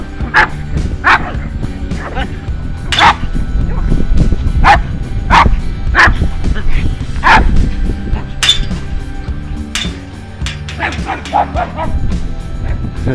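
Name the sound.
several dogs yapping and barking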